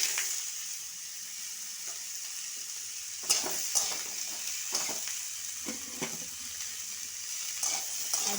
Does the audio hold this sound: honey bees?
no